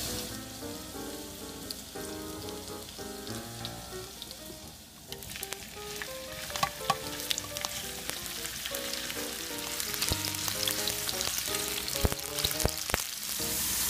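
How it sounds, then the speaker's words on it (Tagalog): Sliced hotdogs fry in a pan for hotdog afritada, giving a steady close sizzle and crackle that grows louder partway through, with scattered pops and no voices. "para ating iprito itong ating mga hiniwang hotdog"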